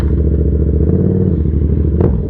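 A Yamaha XSR700 motorcycle being ridden, its engine a loud, steady low rumble that stays close throughout, with a brief clatter near the end.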